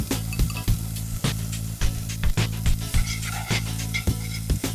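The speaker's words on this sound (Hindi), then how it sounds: "मैं यहाँ पे विस्क का इस्तेमाल कर रही हूँ, ना ही एक स्पैचुला का" Paneer being stirred with a whisk in a hot pan, a steady sizzle under repeated sharp metallic scrapes and taps at an uneven rhythm, close and loud.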